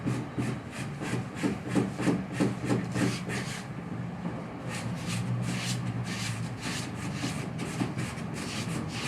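Cut foam has its edge sanded with fine sandpaper, giving a rhythmic, close scratchy rubbing of repeated back-and-forth strokes that settles into a steadier scrape partway through.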